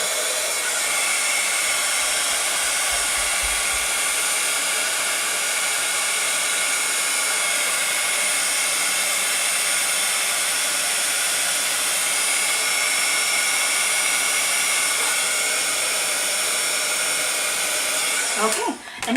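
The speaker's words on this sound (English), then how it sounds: "And now we'll go ahead and heat set these clouds." A heat embossing tool heat-sets stamped clouds on a handmade card, blowing as a loud steady whirring roar from start to finish before it clicks off at the very end.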